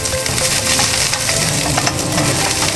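Sliced onions sizzling in a hot pan, a steady close, bright hiss with light scraping and stirring clatter running throughout, with no talking.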